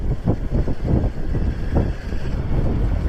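Strong wind buffets the microphone in loud, rumbling gusts that rise and fall continuously, with no voices, on a motorcycle ride up Marilaque highway.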